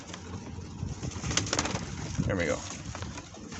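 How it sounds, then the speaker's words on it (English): Pigeons coo close by in repeated low, throaty calls, with some rustling and shuffling and someone talking briefly over them. "And the pigeons like it."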